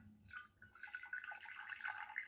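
Liquid poured slowly and carefully into a pitcher for Arnold Palmer iced tea lemonade, a steady soft trickling stream of moderate loudness that continues throughout without a break.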